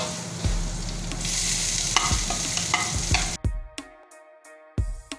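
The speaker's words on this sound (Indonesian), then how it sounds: "Kita tumis sayurannya ya." Vegetables stir-fry in a pan with garlic, ginger and a splash of sake, giving a loud, steady sizzle with scraping stirs that cuts off abruptly partway through, leaving quieter ringing tones and a couple of sharp clatters.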